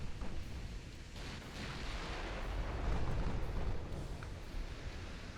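Secondary guns of a warship firing in a naval battle game, a continuous rumbling barrage of overlapping booms and blasts, dense and steady throughout.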